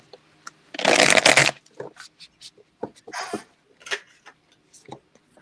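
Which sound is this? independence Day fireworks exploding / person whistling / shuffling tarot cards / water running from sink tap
shuffling tarot cards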